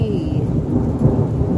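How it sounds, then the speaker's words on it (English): Rain begins falling hard outdoors during a thunderstorm, a dense, close, continuous hiss of drops mixed with low rumbling thunder, loud and steady without speech. "It's raining. Just started raining."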